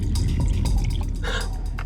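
Drinking water pours and splashes into a glass in a restaurant, a short close liquid trickle with dripping sounds.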